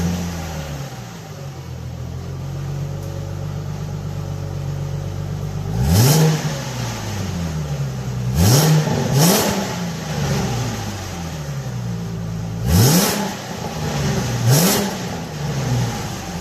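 A V6 Ford Mustang with stock exhaust and a K&N air intake idles with a low rumble, then revs sharply several times, each throttle blip rising and falling back, with no talking.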